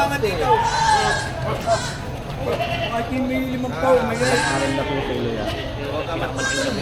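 Goats bleat repeatedly amid a busy livestock market crowd, their wavering cries rising over steady background chatter and voices.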